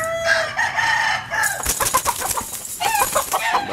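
A young Kelso rooster clucks and squawks up close, short agitated calls in quick succession filling the whole moment.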